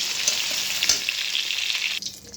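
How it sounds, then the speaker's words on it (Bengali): Pointed gourd (potol) pieces frying in hot oil give a loud, continuous crackling sizzle with brief stirring scrapes, and the sizzle drops away sharply near the end, with no talking. "পটলগুলো একটু ভাজা ভাজা হোক"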